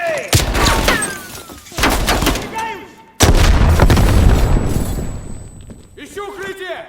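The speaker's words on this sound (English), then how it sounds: "Incoming grenade!" A grenade blast booms in the Call of Duty Black Ops Cold War campaign, loud and close, amid earlier gunfire bursts. Soldiers shout over the combat noise.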